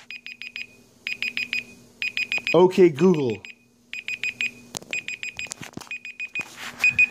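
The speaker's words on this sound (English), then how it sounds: "Okay, Google. Stop the timer." A Google Pixel phone timer alarm beeps in rapid repeating bursts, loud and close, pausing briefly while someone speaks a voice command over it before the beeping resumes.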